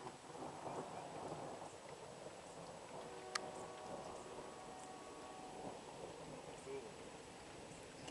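Thunder rumbles through a stormy evening in Fairfield, a low continuous roll with a sharp crack partway through, heard at a distance over steady rain-like hiss.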